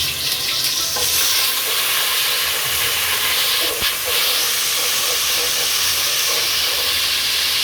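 Spices for chicken biryani fry in a hot pot, giving a loud, continuous hissing sizzle, close by and steady, with a few faint knocks of stirring.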